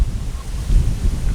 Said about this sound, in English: and now the wind picks up.